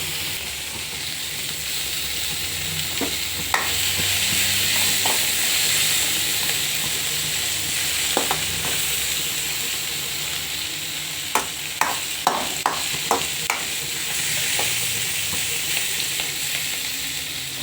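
Ingredients for mint chutney fry in a pan on low heat, giving a steady close sizzle and hiss with occasional sharp pops and spatula clicks.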